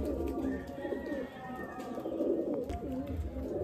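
Tournament pigeons of Andhra and Madrasi breeds coo in low, throaty rolling calls that repeat through the clip close by, with a faint voice in the background.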